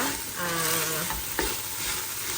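Food sautéing in a pan with a steady sizzling hiss and a few stirring scrapes, close and moderately loud, with no talking.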